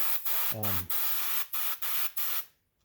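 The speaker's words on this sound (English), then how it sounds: "get yourself a good airbrush." Airbrush spraying paint for touch-up work on a model dump truck, heard as close, fine hissing bursts in several short pulses.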